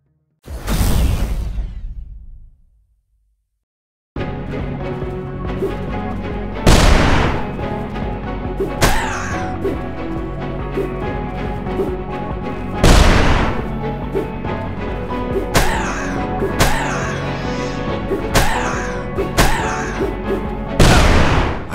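Grenade blasts and gunfire in the game UnMetal: an opening explosion fades to silence, then a dense sustained roar of combat with repeated heavy booms and sharp shot impacts, loud and close throughout.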